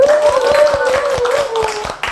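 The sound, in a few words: applause from audience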